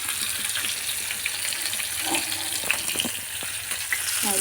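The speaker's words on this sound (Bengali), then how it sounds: "তো এখন মাছটাকে ভেজে নেই" Hilsa fish frying in oil in a pan, a steady close sizzle that carries on throughout with small crackles and pops and no voices.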